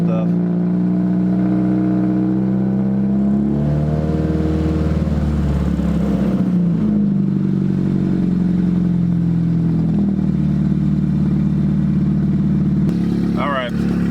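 Chevy Cruze engine idling after a cold start, a steady droning hum whose pitch shifts and settles midway, heard up close with a brief clatter near the end.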